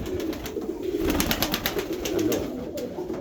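Pigeons cooing in a Ukrainian city, with a steady low murmur of calls and soft fluttery bursts close by, heard alone without talk.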